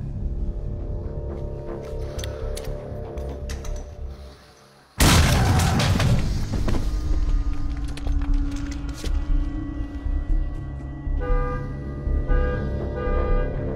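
A grenade explosion goes off as a sudden loud boom after a few seconds of tense background, followed by a long rumbling decay with debris and ringing.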